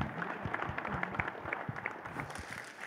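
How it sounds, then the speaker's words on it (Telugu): An audience claps and cheers at a film's blockbuster celebration event, steady scattered applause from a crowd, moderately distant and fairly quiet. "they should give a huge round of applause actually"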